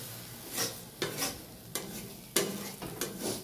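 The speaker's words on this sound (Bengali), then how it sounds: "পাকটা ভালো করে পাক দিতে হবে" Pea kochuri filling is stirred and pressed in a pan with a spatula, giving a rhythmic series of close scraping strokes over a soft sizzle, without speech.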